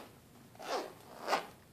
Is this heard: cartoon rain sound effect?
no